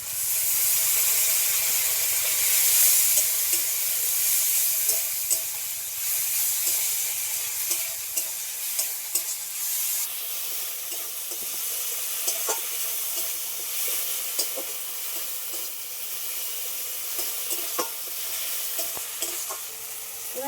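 Spice-rinse water hitting a hot pan of Bengali curry with ground cumin, a steady loud sizzle and steamy hiss with stirring scrapes, continuing alone throughout.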